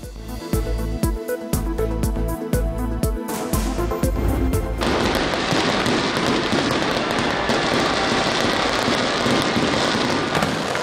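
Fireworks burst over a city during Pakistan's 75th Independence Day celebrations, first as a rapid run of sharp, separate booms and crackles, then a dense, continuous roar of overlapping explosions. The sound is loud and close, with no talk.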